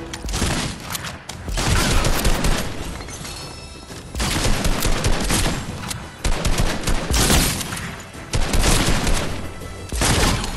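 Gunfire in Fortnite Season 8, repeated loud bursts of rapid automatic shooting broken by short gaps across the stretch, near and unaccompanied by speech.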